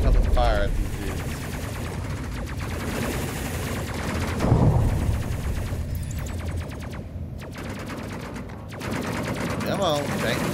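Incoming gunfire in the space combat game Space Crew, aimed at a ship or station. Dense, rapid automatic bursts rattle almost without pause, loud and close, with a voice partly underneath.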